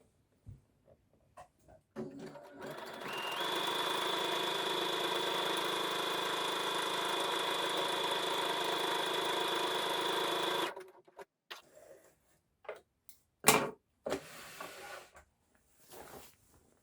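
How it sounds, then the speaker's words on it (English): A sewing machine stitches a buttonhole on pyjama pants, running in one steady, even whir for about eight seconds, preceded and followed by light clicks and handling noises. "Now I'm going to make a buttonhole, which I'm going to use for my drawstring."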